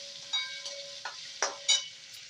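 Green chillies and ginger fry in masala as a soft sizzle under a few sharp scraping stirs and light utensil knocks spaced across the moment.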